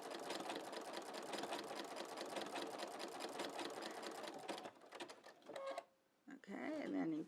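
A domestic sewing machine stitches a Stack 'N Whack style quilt block, catching the edge of a motif. Its rapid, even run of stitches stays close and loud, then breaks into short bursts and pauses as the fabric is pivoted.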